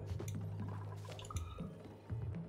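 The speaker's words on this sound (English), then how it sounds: "Oh, water." Wet, bubbly dripping and gurgling water from the video game Oxygen Not Included plays steadily over a low hum, with small irregular splashes throughout.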